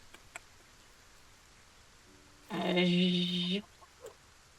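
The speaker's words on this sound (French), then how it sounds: "Ok, là, il y a une poule." A lone drawn-out cluck from a hen in the video game Solarpunk, a single harmonic call lasting about a second amid faint background rustling.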